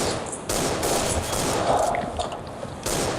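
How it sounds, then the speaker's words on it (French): AWP sniper rifle fire in CS:GO on the Dust2 map during a competitive match, loud sharp shots at the start and near the end with dense gunfire and game noise in between. "j'ai pris la WAP, qui est un sniper qui peut one shot"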